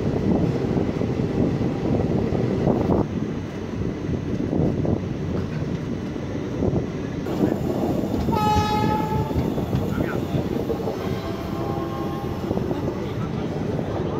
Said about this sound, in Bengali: এখান থেকে আমাদের ট্রেন ছেড়ে দিল ব্যান্ডেল জাংশন থেকে।